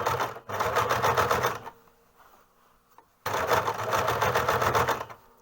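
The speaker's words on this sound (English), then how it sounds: "And I'm going to sew it all the way around." A sewing machine stitches around the edge of a rapier hood: two steady runs of fast, even needle chatter, close and fairly loud, broken by a brief quiet pause.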